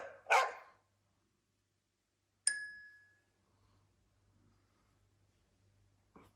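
A dog gives a single loud, close bark, followed a couple of seconds later by a bright chime-like ding that fades into near silence.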